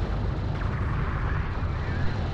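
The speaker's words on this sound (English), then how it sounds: "Enemy railgun firing on friendlies." Railgun fire in the sci-fi strategy game Homeworld: Deserts of Kharak, a dense rumbling wash of blasts and battlefield noise, loud and continuous with no distinct separate shots.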